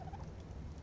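A bird in the video game Ark: Survival Evolved gives a short gobbling, turkey-like squawk, a quick warbling burst at the start over a low rumbling game background.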